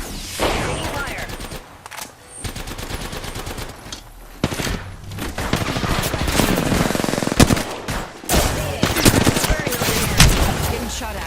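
Video game gunfire in a fast automatic rattle and repeated sharp shots, loud and close, mixed with game voice lines and other battle sounds that come and go across the whole stretch.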